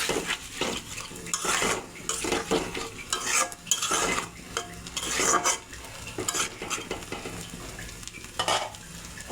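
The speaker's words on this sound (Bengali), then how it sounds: "মশলার সঙ্গে আলুটা আরেকটু ভালো করে কষিয়ে নেব ঢাকনা দিয়ে ঢেকে।" Potatoes being stirred with spices in a pan for a fried-spice tengra fish curry, with frequent clattering spatula scrapes against the pan over a soft sizzle, close by and without speech.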